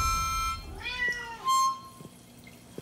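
A cat meows repeatedly, close and clear, in a kitchen while people play with it using a harmonica, with a couple of short rising and falling calls over faint background sound.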